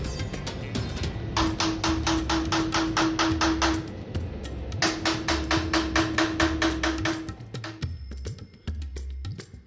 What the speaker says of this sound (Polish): stukot młotka przywiódł nas do jednego z wielu warsztatów, w których wystukuje się owe cudeńka